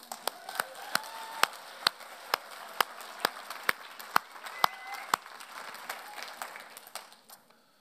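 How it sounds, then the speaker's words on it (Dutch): Applause from a church congregation during a service: sparse, steady claps with a few distinct hands, moderately distant in a reverberant hall, thinning out and fading at the end. "even een applaus"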